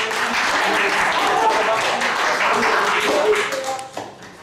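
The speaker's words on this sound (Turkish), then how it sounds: "Bir alkışlayalım Fatih." A crowd at a school report card ceremony applauds in a sustained, lively wash of clapping with some talking underneath, tapering off near the end.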